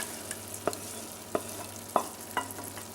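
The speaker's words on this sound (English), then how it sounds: "And over here we've got our tomato sauce with herbs, which we're now going to add to the mix." Tomato and herb sauce being stirred into food in a Remoska electric cooker, with a spoon clinking against the pan about five times in a steady rhythm over a low sizzle, no talking.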